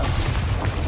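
Bombardo spell blast in the Hogwarts Legacy video game, a dense, sustained low rumbling boom filling the whole brief moment at steady loudness.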